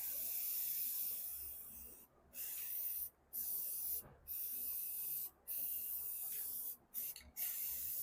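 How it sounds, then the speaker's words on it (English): Aerosol can of enamel flat black spray paint hissing in long bursts separated by brief pauses, about six sprays, close and steady. "So I'm going to go back in with that enamel flat black and get them sprayed."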